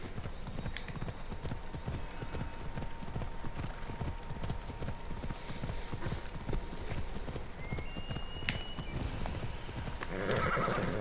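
Horse hooves clip-clop steadily at a gallop in the video game Assassin's Creed Odyssey, with a horse neighing near the end, all fairly loud and close with no talk over it.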